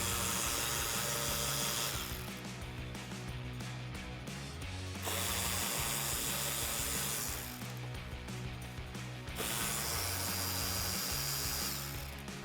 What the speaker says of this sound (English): I'm going to use a Phillips head to remove the 3 screws in the inner wheel well liner